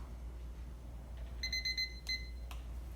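A kitchen timer beeps in a quick run of short electronic chirps, then a couple of isolated beeps, faint over a low steady room hum, with no talking.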